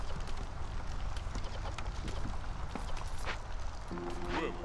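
Horse hooves clip-clop in the video game Against the Storm, a light irregular patter of hoof taps over a steady soft ambient backdrop, with a brief tonal chime near the end.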